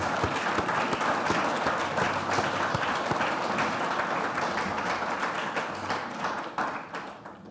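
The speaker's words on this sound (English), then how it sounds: "there will be more applause more frequently" Sustained applause from an audience at a biology degree accreditation awards ceremony, dense rapid clapping throughout that gradually thins and fades toward the end.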